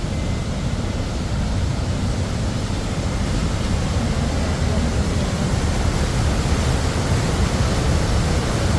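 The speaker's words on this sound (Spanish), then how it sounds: "acá están las cataratas de Athabasca." Athabasca Falls, a large river waterfall on the Jasper–Banff road in the Canadian Rockies, roars as a steady, dense, unbroken rush of water, loud and close throughout, with no voices over it.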